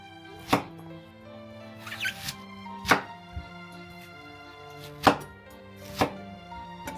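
Knife cutting onion lengthwise into roughly 1 cm chunks on a cutting board, a handful of sharp, separate chops spaced irregularly, close and clear over quiet background music, with no talk.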